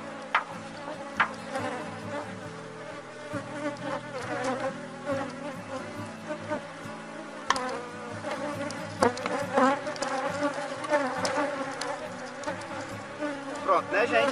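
A honeybee swarm buzzing steadily during a hive split, a dense continuous drone close by with occasional knocks and handling noises from the hive box.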